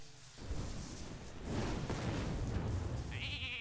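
A sheep bleat sounds near the end, short and high, right after a loud booming burst of blasts and rumbling effects in a video game.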